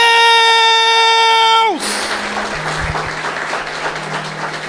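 A church congregation breaks into dense applause during a sermon on Acts 12, following a sustained sung or played tone that cuts off abruptly.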